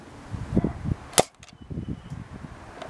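A Nerf Mega Tri Break blaster fires a single dart, giving one sharp, loud pop between stretches of quiet background voices or movement.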